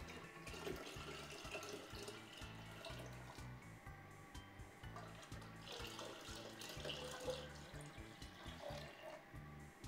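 Tap water runs steadily into a pitcher while strawberry lemonade is being made, a continuous close splashing stream that carries on for the whole stretch with no talking.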